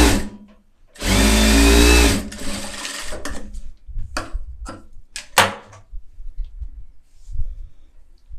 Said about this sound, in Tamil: ரெண்டு பக்கமும் கரெக்டாக ஓரத்தில் எஜ்ஜில் நான் தையல் போடுறேன்